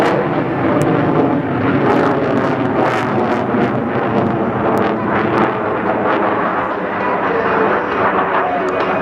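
An F/A-18C Hornet jet performs an Immelmann maneuver at an air show in Peoria, Illinois, its engine roar loud and continuous with rushing wind buffeting the microphone throughout.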